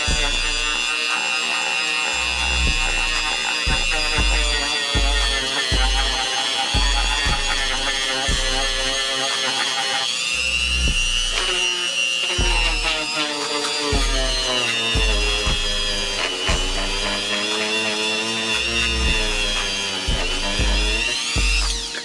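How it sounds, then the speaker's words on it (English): High-pitched whine of a Dremel with a buffing wheel running continuously, its pitch dipping and rising as it presses against a leather edge, with intermittent low knocks underneath. "you can just simply put on your buffing wheel on your Dremel drill"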